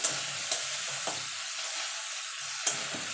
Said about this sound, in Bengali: এবার আদাটা আর কাঁচা লঙ্কাটা টমেটোর সঙ্গে ভালো করে কষিয়ে নেব।